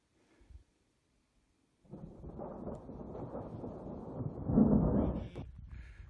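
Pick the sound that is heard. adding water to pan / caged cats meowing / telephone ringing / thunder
thunder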